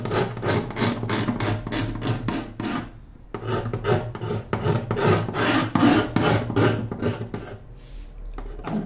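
Varnish is scraped off wood to glue a guitar bridge, making rapid rhythmic rasping strokes, loud and close, with a short pause partway through before the scraping resumes.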